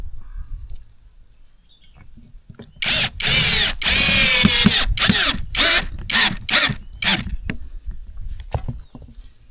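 A MASARU three-mode cordless drill fitted with a screwdriver bit drives a screw through two clamped wood pieces, a loud whirring run broken into short bursts and stops, with clicking between pulses.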